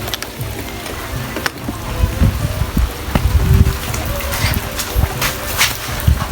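Steady rain falls on a Malaysian street, a broadband patter of drops with scattered louder splashes and taps, close and continuous, with faint voices now and then.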